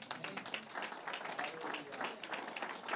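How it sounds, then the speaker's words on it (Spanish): A church congregation at a priests' gathering claps together, a fairly faint, steady patter of many hands with some voices mixed in, lasting several seconds. "Dale un aplauso al Señor."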